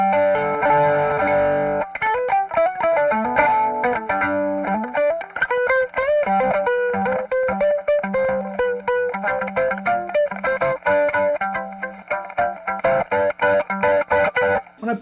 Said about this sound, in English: Let me turn off the fuzz so you can hear just what the overdrive's doing.